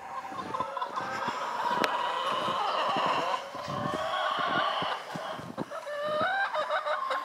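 Backyard chickens clucking softly and continuously while pecking at snow, several birds close by with scattered sharper calls and light scuffing underneath.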